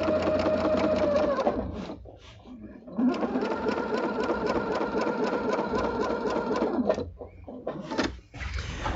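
A domestic sewing machine stitches steadily through free-motion quilting, a loud continuous motor whir with rapid needle rhythm, briefly pausing around the two and seven second marks before resuming.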